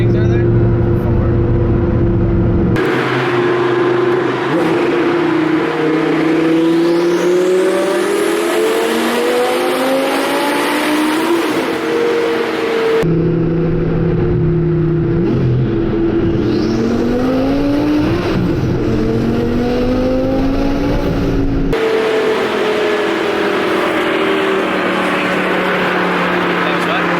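Audi V10 R8 build with around 1500 horsepower, revving hard while driving through tunnels: loud rising and falling engine pitch sweeps across repeated gear pulls, close and dominant, with occasional talk underneath.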